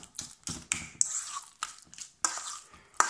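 Guacamole seasoned with chili or tabasco being stirred in a bowl, a series of soft wet squelches and clicks at an irregular rhythm, close and fairly quiet.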